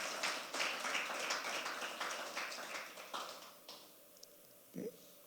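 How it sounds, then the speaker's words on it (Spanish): A Spanish-speaking church congregation claps loudly and steadily for several seconds, then the applause thins out and fades away toward the end. "Dele fuerte el aplauso al Señor"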